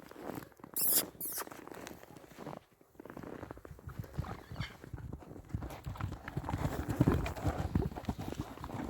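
A shod Percheron horse walks on clay and snow-wet ground, with close, steady clip-clop hoofbeats that run throughout alongside light scuffing.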